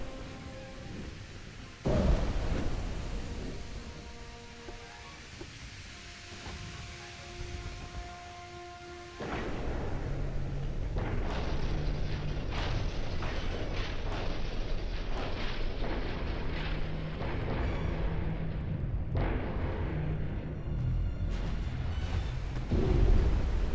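Torpedo hits in the naval warfare game Ultimate Admiral Dreadnoughts, heard as deep, heavy booms with rolling rumble, one sharp blast early and another about halfway, followed by a long, sustained roar.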